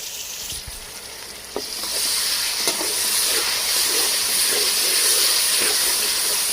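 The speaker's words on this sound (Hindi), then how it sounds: "इसे हम 2 से 3 मिनट तक अच्छे से रोस्ट करेंगे" Tomatoes with green chilli and cumin fry in a pan for a pulao, giving a steady broadband sizzle that swells louder after the first couple of seconds, with a few faint clicks of stirring and no voices.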